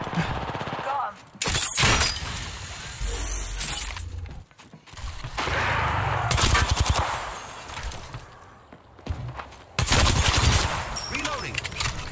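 Bursts of rapid gunfire and shattering shields in the video game Apex Legends, loud and close, arriving in several intense volleys separated by brief lulls, mixed with game effects and callouts.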